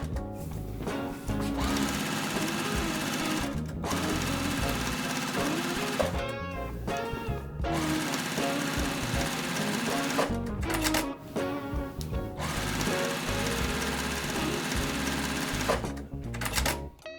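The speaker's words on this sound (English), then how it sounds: "right sides together, and let's start sewing." Sewing machine stitching quilt rows pieced right sides together, running in long fast bursts of steady mechanical whirring and needle chatter, loud and close, with brief pauses between seams.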